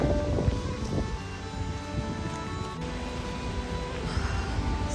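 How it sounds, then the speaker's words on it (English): Strong wind roars steadily over a bridge in Skagway, Alaska, buffeting the microphone with a dense, continuous rumble and no voices. "So all of that wind that you hear is being that's what's coming at you when you're coming over the bridge."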